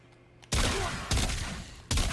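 A Fulmin rifle in shotgun mode fires in a video game: three heavy, loud blasts spaced roughly a second apart, each with a long, rumbling decay and no talking.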